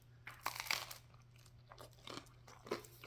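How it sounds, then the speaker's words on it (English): Several crisp crunches from biting into a BBQ pork tartine, loud and close, spaced irregularly over a steady low hum with no talking. "We should get another up close bite for the crunch"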